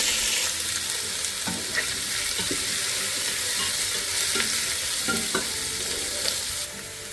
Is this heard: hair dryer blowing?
no